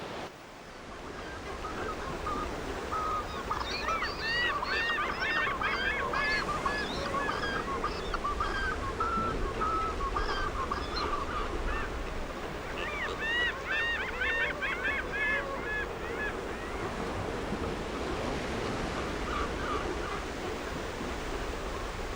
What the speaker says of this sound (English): The proximity of the Pacific Ocean and the numerous lakes attract water birds from the Patagonian region, which form into noisy and abundant colonies.